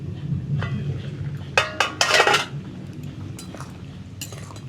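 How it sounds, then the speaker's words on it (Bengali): A metal lid clinks onto a cooking pot with a few sharp, close rattles over a low kitchen background hum, after boiling starts for radish and potatoes in a mustard curry. "এবারে আমি জল দিয়ে দিব। ঢাকনা দিয়ে কিছুক্ষণ সেদ্ধ করে নেব।"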